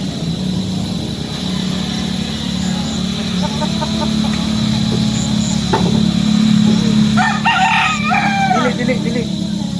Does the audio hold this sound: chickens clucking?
yes